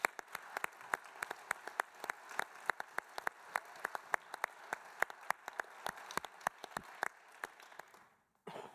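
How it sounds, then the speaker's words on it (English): Sparse, distinct claps from a small audience at a corrections symposium panel ring out in an uneven rhythm, individual hands clearly audible, before stopping abruptly near the end. "Can we have another round of applause for Greg Winship?"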